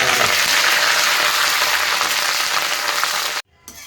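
Okra bajji fritters, with green chillies and curry leaves, frying in hot oil; a dense, steady hiss and crackle fills the clip before cutting off abruptly near the end.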